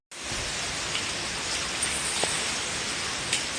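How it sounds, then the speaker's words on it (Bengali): Heavy rain pours down steadily during a storm with gusty wind, a dense, continuous hiss close by with a few louder drops and no voices. "এত বৃষ্টি দেখো, আরো জোরে বৃষ্টি শুরু হয়ে গেছে"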